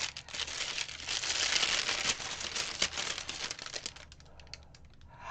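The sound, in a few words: unwrapping spoons from plastic packaging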